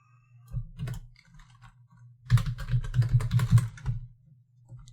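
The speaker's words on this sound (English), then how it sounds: "it's a little bit hard to type because my microphone's in the way of my keyboard" Typing on a computer keyboard with a microphone in the way, heard as a short burst of clicks, then a pause, then a denser rapid run of keystrokes, close and clear with no talking.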